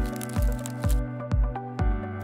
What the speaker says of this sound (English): I'll pour the soda into the bag